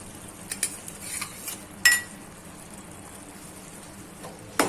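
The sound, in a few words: stirring gunda paste into gravy in a pan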